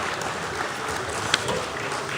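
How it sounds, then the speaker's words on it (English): Audience applause at a live-streamed business event, steady even clapping from a crowd that continues without pause for a couple of seconds. "And keep that applause coming, ladies and gentlemen, for Jason Doraguzzi, the Director of Alutec"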